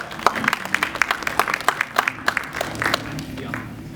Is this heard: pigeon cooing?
no